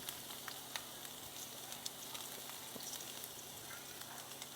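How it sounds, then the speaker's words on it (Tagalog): Ginger sautéing in a pan for Filipino chicken soup, a faint, steady crackling sizzle with scattered small pops throughout. "pag nagigisa ako ng luya, gusto ko maraming luya"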